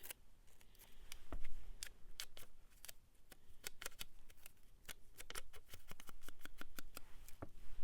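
Scissors snip along paper borders to trim them down for a junk journal, a run of crisp, close cuts at an uneven pace with light paper rustling in between.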